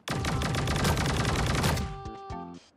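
A rapid automatic burst of gunfire in the battle royale game Sausage Man, loud and continuous for nearly two seconds, then a few ringing metallic tones and trailing shots as it stops.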